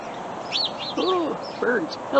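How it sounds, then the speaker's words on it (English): Morning birds give several short rising and falling chirps and whistled calls over steady outdoor background noise, fairly close and moderate in volume. "Oh, birds."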